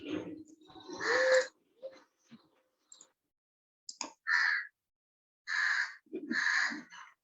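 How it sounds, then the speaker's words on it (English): A forest at night rich in wildlife, including owls, carries loud harsh calls in separate bursts, with near-silent gaps between them. "That is exactly how it would sound in a forest at night"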